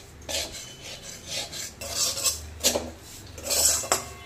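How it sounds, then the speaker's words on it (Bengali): A spatula keeps stirring semolina as it roasts in a pan, making a steady run of close, rasping scrapes, one about every half second, with no talking. "আমি কিন্তু এভাবে সমানে খুন্তি চালিয়েই যাব যতক্ষণ না সুজিটা সুন্দর মতো ভাজা হয়"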